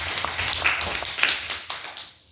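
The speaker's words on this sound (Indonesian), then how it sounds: "Wah, tepuk tangan dulu boleh." Audience applause at a small business talk, a steady patter of many hands clapping with sharper individual claps, moderately loud and fading toward the end.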